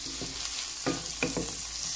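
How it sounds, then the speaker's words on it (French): Spices and broad beans sautéing in a pan over low heat with cumin, pepper and turmeric, giving a steady soft sizzle broken by a few louder stirring scrapes, close and alone. "Et je les laisse revenir à feu doux."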